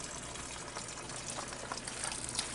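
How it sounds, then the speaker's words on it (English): Water drains steadily from an RV hot water heater tank through an opened release valve, a continuous rushing, gushing flow that holds even throughout with no pauses. "I'm just opening up the release valve, the safety valve to let air in to help it drain."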